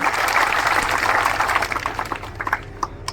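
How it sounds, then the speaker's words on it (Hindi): Crowd applause at a Congress candidate's political rally in Badshahpur, a dense sustained wash of clapping that fades and breaks into scattered individual claps toward the end. "जोरदार तालियों के साथ भाईजान"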